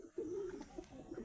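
Low, bubbling coos rise after a brief quiet moment from a cage of male pigeons, among them Saharanpuri crosses and Teddy crosses, then carry on in close, overlapping waves until the end.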